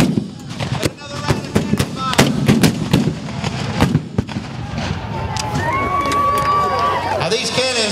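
Repeated sharp booms and bangs of cannon fire at a Civil War reenactment burst out irregularly at close range, mixed with crowd noise and voices talking throughout.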